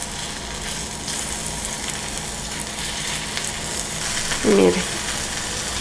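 Potatoes sautéing in a pan give a steady, close sizzle throughout, with a brief louder stir or turn near the end and a voice speaking briefly.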